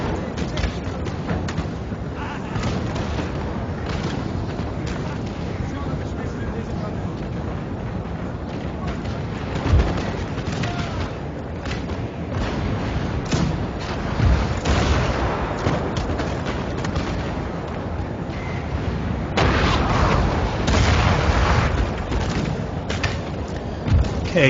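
Cannon and artillery booms sound in a strategy video game battle with infantry, peasant levies and cavalry, dull thumps repeating irregularly through a constant rumble of combat while someone talks throughout.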